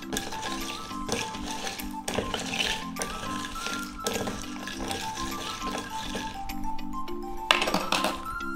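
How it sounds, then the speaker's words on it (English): Crushed ice clinks and rattles against a glass as a chili lime feni cocktail is stirred, a steady run of close, bright chinks with a louder clatter near the end. "And to this, I'll be adding crushed ice. We'll give a stir again,"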